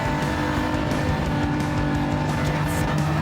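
Race car engine roaring and braking hard into a corner in Gran Turismo 7 during a touring car test session, with tires squealing and skidding, loud and continuous for a few seconds.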